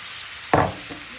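Apples drop into a pan of melted butter and sugar, giving one sudden loud sizzling burst that quickly fades to a quieter simmer.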